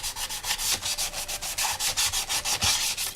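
Bondo body filler being sanded by hand on a Yamaha FZ600 motorcycle fairing part, a close, steady rhythm of rasping strokes repeating about six times a second, with no talking.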